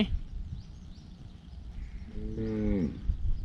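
A Beefmaster cow on a farm gives one drawn-out moo, close and clear, over steady outdoor background noise.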